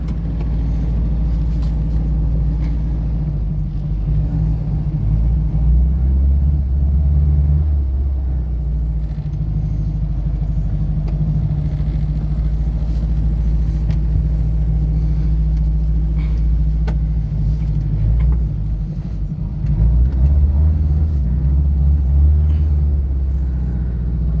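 A classic Mini's engine rumbles loud and steady as the car moves off, with a low continuous drone and a brief swell near the end, with no talking.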